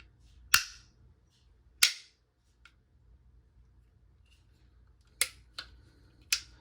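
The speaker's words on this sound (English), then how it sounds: "if you want to fire off a little bit of quicker rounds, quicker shots, the 18C also seems to come pretty standard with that" Shots from a Glock 18C pistol, heard as several sharp, loud cracks spaced apart, some in a quick pair, against a quiet background.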